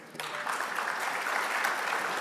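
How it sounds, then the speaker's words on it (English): Audience at an awards evening breaks into steady, full applause that holds evenly loud for a couple of seconds after a short quieter start. "A round of applause, please, for Ed."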